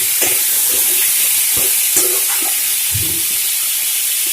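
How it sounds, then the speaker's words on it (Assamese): Fish curry with potato and ground cumin is stirred in a pan, a soft steady sizzle under a few distinct spoon scrapes and knocks against the metal, with no voices. "এইখিনি ভালদৰে লৰাই দিম।"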